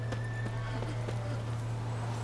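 Horse hooves clop at a walking pace in The Witcher 3 video game, several soft, evenly spaced hoofbeats over a low steady background hum, with no neigh clearly standing out.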